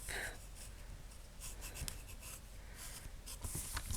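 Steady scratchy strokes of a pencil on thin tracing paper, close and fairly quiet, with brief pauses between bursts of shading.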